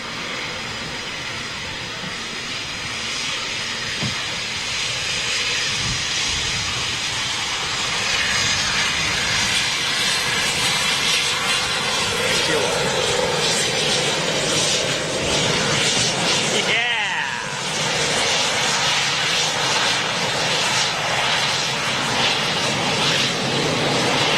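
Eurofighter Typhoon jets at RAF Coningsby produce a loud, steady, broadband engine roar that holds for the whole stretch, with a brief dip and shift partway through, like aircraft taxiing or running up nearby.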